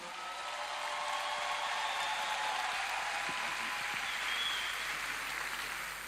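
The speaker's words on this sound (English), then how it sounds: "Keep clapping." A large audience claps steadily and without pause at a graduation ceremony for a Skill Up Imo cohort in Imo State, Nigeria. The broad, even wash of applause holds for several seconds before easing slightly.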